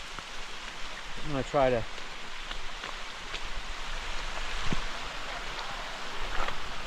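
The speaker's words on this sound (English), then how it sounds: "Rain's coming down." Rain falls steadily on a forested hiking trail near a small waterfall in the Ozarks, a soft broadband patter throughout, with someone briefly talking nearby early on.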